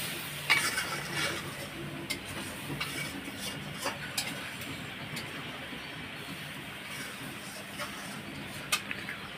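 Quiet scraping and stirring of egg curry spices frying in a pan, with soft sizzling and occasional faint clicks of a utensil against the pan.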